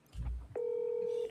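A single steady dial or DTMF-style tone rings out alone for about a second as a phone call is placed, following a brief burst of low rumble and muffled talk.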